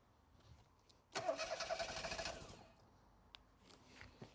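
A classic Mini with an automatic gearbox has its engine cranked in a short, faint burst of about a second and a half of rapid chugging that fades without clearly catching.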